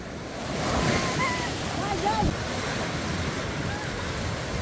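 Ocean waves at Yonghwa beach wash in and break continuously under buffeting wind, with faint voices in the background.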